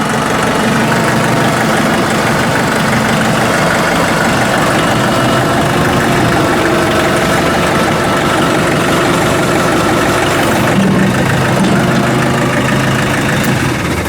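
A steady, rumbling tractor engine idles continuously with a low throbbing drone and faint mechanical knocking, close by and unchanging throughout.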